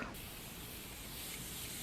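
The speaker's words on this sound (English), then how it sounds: "So I found out via TikTok that the Morphe Continuous Mist is a finishing spray." A jumbo bottle of Morphe Continuous Mist finishing spray releases a quiet, steady hiss of mist that runs unbroken for a couple of seconds, faint and close, with no talking.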